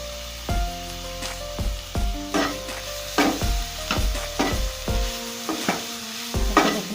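A spatula stirs egg roll filling in a hot pan, giving a steady run of sharp scraping strokes about every half second over a soft sizzle, close and clear with no talking.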